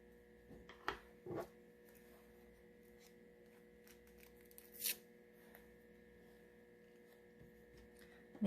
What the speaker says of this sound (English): you can tear the size of the tissue paper to fit whatever space you want it to fit